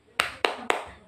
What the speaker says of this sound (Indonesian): yuk kita tepuk semangat sama-sama.